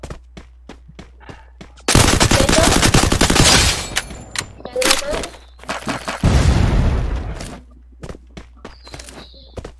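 Machine gun fire in the video game Free Fire: long rapid bursts of automatic shots, close and loud, broken by scattered single shots and footsteps, with a voice speaking between the bursts.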